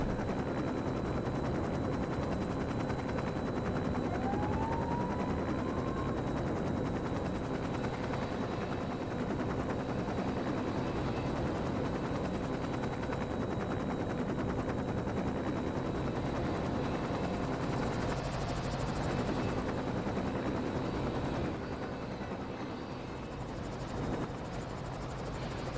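A steady, droning helicopter in flight in the video game LEGO City Undercover, near an airport helipad, its continuous rotor and engine roar holding level for the whole stretch with no talk over it.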